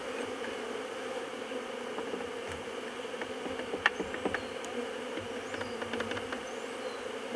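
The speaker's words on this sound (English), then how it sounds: "Can you hear the humming?" Honeybees hum around an opened Flow hive during a first inspection, a steady dense buzzing drone close by with occasional louder passes of individual bees and faint handling noises.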